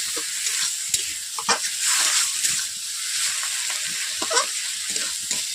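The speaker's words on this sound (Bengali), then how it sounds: "এরপর আমি দু মিনিট এইভাবে নেড়ে নেবো" Cumin paste is stirred in a hot cooking pan, a continuous soft sizzle broken by irregular scraping and knocking of the spoon against the metal, close and moderately loud, with no talking.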